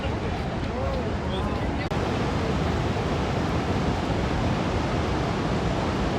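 Niagara Falls roaring from very close by, a dense, steady wash of falling water that is loud and unbroken throughout.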